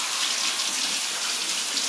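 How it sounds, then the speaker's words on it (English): Water from a kitchen tap runs steadily over bacon held under it, a continuous close hiss and splash with no pauses. "I'm just going to hold it up like this, under running water tap"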